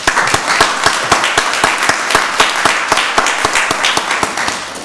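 A round of applause breaks out at a county board of commissioners meeting, steady and dense with individual sharp claps standing out throughout, loud and close, with no talking over it.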